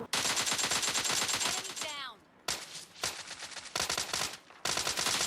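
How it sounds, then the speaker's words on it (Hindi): Rapid automatic gunfire from PUBG Mobile Lite, with bursts near and loud, broken by brief pauses, then more sharp volleys. "इस बोट को मैंने एक बुलेट मारी"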